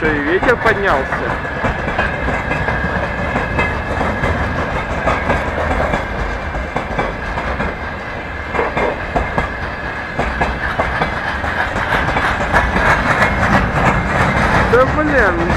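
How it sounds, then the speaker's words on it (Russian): A long freight train rolls past up close, wheels clattering rhythmically over rail joints in a continuous loud rumble, wagon after wagon, with engine drone underneath. "длинный какой поезд"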